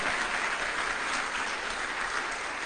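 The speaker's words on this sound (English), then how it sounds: "Let's hear it for them. Big round of applause." At a State of the City event, an audience gives veterans a big round of applause, a sustained wash of many hands clapping at even loudness from start to finish, with no talking over it.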